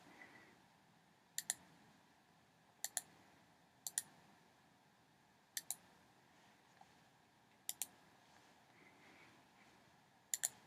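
Quiet computer mouse clicks while working in Adobe Illustrator's mesh tool, arriving in crisp double-click pairs spaced a second or two apart, close and sharp against faint room hiss.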